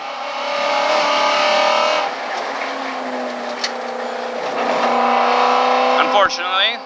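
A Ford Mustang GT350 engine drones loudly at full throttle on a race track, the pitch climbing steadily through the gears, with a voice talking over it from inside the car.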